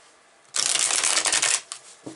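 A deck of tarot cards is riffled in one loud, close burst of dense fluttering that lasts about a second, then a few softer card taps follow.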